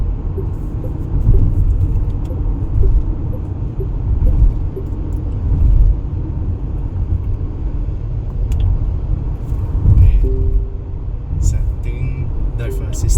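A Chery Tiggo 8 CSH plug-in hybrid SUV accelerates on the road from inside the cabin, a steady low rumble of road and drivetrain noise that swells slightly in places, with people talking over it.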